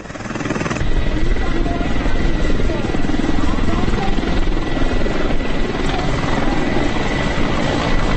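An HAL Prachand combat helicopter flies close by, its loud, steady rotor thump and turbine roar running unbroken from start to finish.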